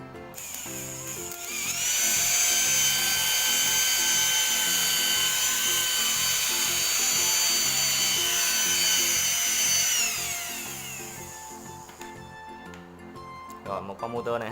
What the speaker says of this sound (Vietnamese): Motor này mình đã độ lại rồi nha các bạn, chạy rất là nhanh ha